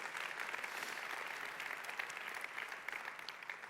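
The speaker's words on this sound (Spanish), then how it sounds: "Dale un fuerte aplauso al Señor." Steady applause from a church congregation fills the whole stretch, a dense even wash of clapping with no talk over it.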